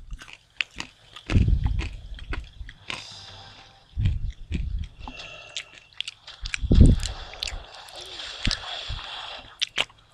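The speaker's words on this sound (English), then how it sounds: "if you hear crunching noise and background noises, I am eating food" Crunchy chewing and biting on food, close to the mic, in repeated bursts amid background clicks and game-like noises.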